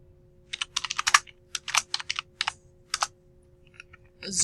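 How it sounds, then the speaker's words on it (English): Rapid key clicks on a computer keyboard come in short bursts and pauses, close and clear over a quiet hum. "And then secondly, I'm going to type down here a zoom"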